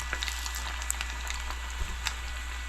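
Humuhumu ele ele fish frying in hot oil in South Kona, Hawaii, a steady close sizzle with scattered pops and crackles over a low constant hum.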